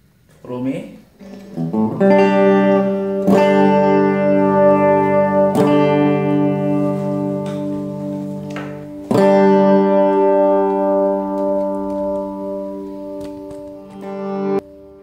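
Electric guitar through an amplifier on a clean setting: several strummed chords ring out and sustain, each decaying slowly before the next strike, fairly loud and close, with brief talk at the start.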